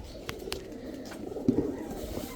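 Silver pigeons coo softly in a loft, with low repeated throaty coos and faint chirps and rustling over quiet background noise.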